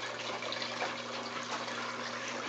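Rainwater poured into a small aquarium inside a greenhouse, a continuous gushing splash of liquid that runs steadily from start to end over a faint low electrical hum.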